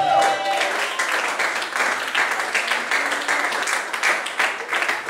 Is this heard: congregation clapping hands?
yes